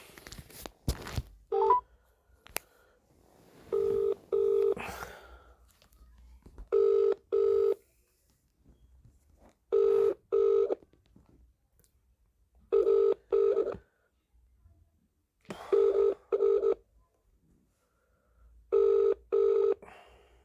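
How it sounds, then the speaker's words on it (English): Touch-tone dialing beeps, then a ringback tone repeating in regular double pulses about every three seconds, clear and close with no talking. "ringing up Christopher Browell now."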